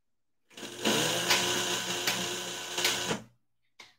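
A sewing machine runs steadily for nearly three seconds with a whirring, rapid stitching rhythm, then stops, followed by a brief click.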